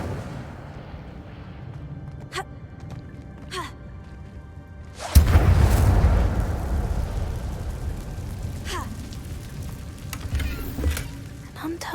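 The Incendio fire spell is cast in Hogwarts Legacy, bursting into a loud roaring whoosh of flame that swells suddenly and trails off into crackling rumble, preceded by a few faint ticks.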